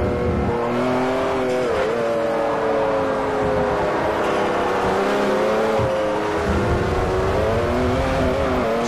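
Saleen S5S supercar engine in the Forza 4 racing game, roaring loudly and steadily with rising and falling revs through gear changes during a race.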